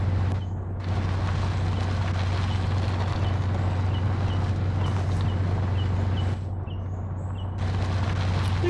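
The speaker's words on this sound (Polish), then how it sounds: "Samochód jest bardzo głośny." A loud, rumbling engine of a vehicle in a war video game drones continuously with a heavy low hum, cutting out briefly a couple of times, dense and harsh.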